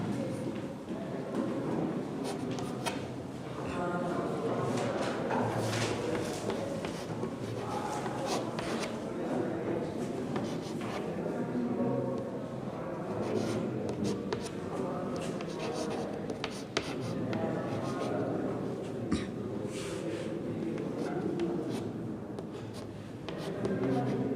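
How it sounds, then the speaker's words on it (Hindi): A teacher writing on a classroom board during a redox reactions chemistry lesson, with repeated scratchy and tapping strokes in uneven bursts while the teacher talks intermittently over them. "मैं तब तक नीचे लिख रहा हूं।"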